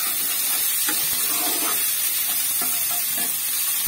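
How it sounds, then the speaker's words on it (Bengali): Chicken filling for soup momos fries in a pan with a steady, close sizzle and hiss, broken by a few soft stirring scrapes, with no voices. "বেশ একটু ভেজে নেব।"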